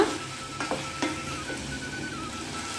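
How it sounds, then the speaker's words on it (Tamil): Potatoes and butter beans sauté in a pan for a curry. A continuous close sizzle runs throughout, with a few soft scrapes as the mixture is stirred. "சேர்த்துட்டு வதக்கி விட்டுக்கோங்க"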